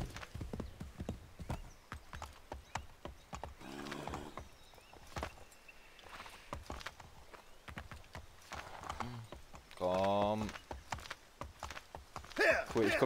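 Horse hooves clip-clop at a walk in the Assassin's Creed III game, a steady run of close, loud beats with occasional whinnies and game sound effects mixed in.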